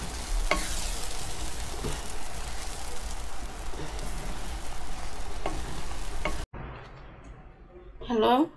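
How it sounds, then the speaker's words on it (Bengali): Lamb brain curry cooked with coconut milk is stirred in a pan, a steady close sizzle and scraping stir running for most of the clip before it cuts off abruptly near the end, followed by a brief brighter clatter. "এই যে এখন লাড়াচাড়া দিচ্ছি এই দেখেন তেল জেগে গেছে"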